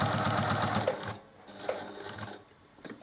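Sewing machine stitching through quilt layers, a fast steady mechanical chatter for about a second that stops, followed by a few faint short clicks and brief stitch bursts.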